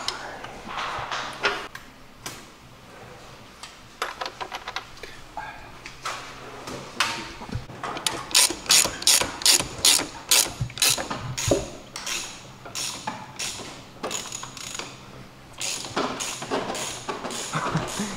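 Ratchet tightening a part on a tuned scooter, heard as quick runs of close clicking strokes in bursts, with short pauses and some clanking.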